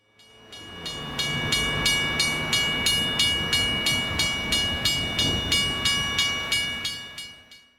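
A train passing a railroad crossing close by, its wheels beating a steady rhythmic clatter over the rail joints for several seconds, with a high ringing tone throughout as the sound swells and then fades.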